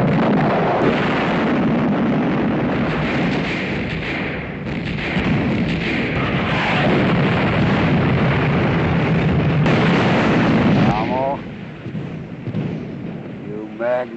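Artillery fires in a World War II film battle scene, a dense, continuous rumble of booms and heavy thuds layered together, with faint voices surfacing near the end.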